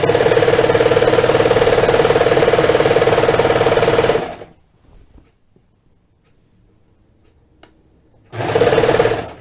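A sewing machine stitches a sweater in a loud, steady run for about four seconds, falls silent with only faint handling noises, then starts up again near the end.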